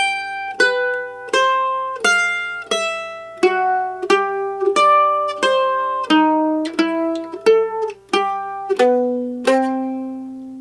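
Solo mandolin plays a bebop-style jazz phrase in a steady run of bright plucked notes that slide into target tones through chromatic approach notes, ending on a lower sustained note, clear and close with no talking.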